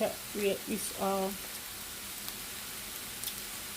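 A pepper mixture and vegetables sauté in a frying pan for Ghana egg fried rice. A soft, steady sizzle hisses underneath, with a voice briefly heard at the start.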